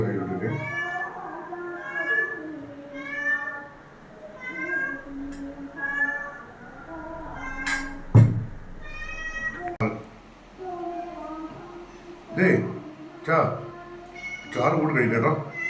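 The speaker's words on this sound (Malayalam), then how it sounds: "പൂച്ച നിനക്ക് തരാൻ ബഹളം ഉണ്ടെന്നായിരിക്കൂ" A house cat meows repeatedly in a string of clear, drawn-out cries close to the microphone, with people talking in Malayalam around it in a home at mealtime.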